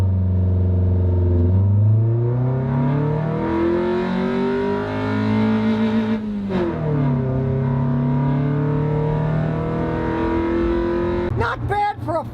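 A cheap $400 car with many miles pulls away from a standing start, its engine revving up loud and close through a rising run of gear pulls, with a brief shift dip before climbing again.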